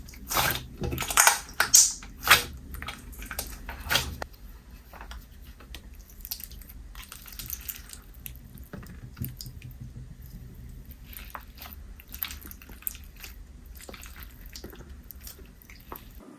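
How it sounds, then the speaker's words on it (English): Slime being slowly kneaded with water beads mixed in, giving wet squishy squelches and soft clicks, loudest in the first few seconds, then quieter, intermittent squishing with no talking. "As I was slowly mixing the water beads into the slime"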